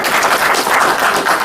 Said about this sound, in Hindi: सभी तालियों से स्वागत करें।